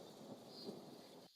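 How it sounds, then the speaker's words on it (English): A low rolling thunder effect with a rain-like hiss, used as a layer in a song cover arrangement, a brief soft rumble that cuts off abruptly at the end. "the thunder sound."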